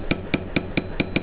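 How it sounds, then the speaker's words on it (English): Hammer blows on silver wire over a domed surface during silver forging: six evenly spaced, bright metallic taps in quick steady rhythm, close and clear against a constant high ringing hum. "start hammering on it and overlapping our hammer blows"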